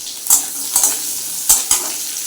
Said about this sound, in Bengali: একটু লাল লাল করে ভেজে দেবো আলু আর পটল